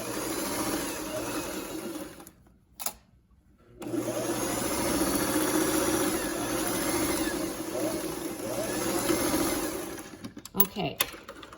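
An old, freshly oiled and greased Singer sewing machine stitching a fabric mask whirs steadily up close, stops briefly near three seconds, then runs on before ending in a few sharp clicks.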